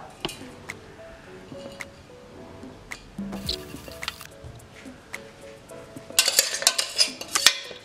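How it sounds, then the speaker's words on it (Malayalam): Coconut and cumin being crushed for Pesaha appam, with scattered clinks and taps of a utensil on a vessel, then a louder burst of grinding, scraping clatter near the end. "ഇപ്പം ആദ്യം തേങ്ങയും ജീരകവും കൂടെ നമുക്ക് ഒന്ന് ക്രഷ് ചെയ്തെടുക്കാം"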